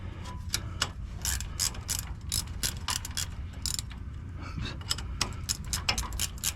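A hand ratchet tightening bolts during a wheel bearing change on a Chevy Silverado, with rapid, continuous pawl clicking up close over a low background hum, sounding in steady bursts.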